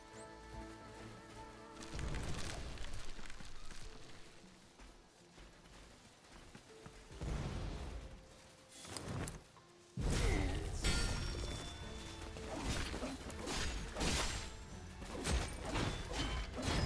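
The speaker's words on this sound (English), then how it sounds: "Didn't think that explosion was gonna hit me there" Mine explosions and combat in the video game Beast of Reincarnation: loud crashing blasts and heavy thuds burst out repeatedly, with whooshes and impacts layered between them and no talk.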